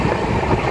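Kerala SF Express passenger train at cruising speed, a steady loud rumble of wheels and carriage noise with faint clatter throughout, close and continuous until it cuts off abruptly.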